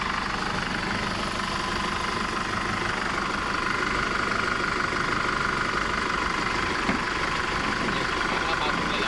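A Chevrolet Trailblazer 2.0 engine idles while warming up, a steady continuous rumble that runs throughout with people talking over it.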